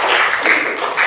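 A classroom group claps together in a brief burst of dense, close applause lasting about a second, with no talk over it.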